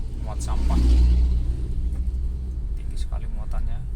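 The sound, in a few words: garbage truck passing on road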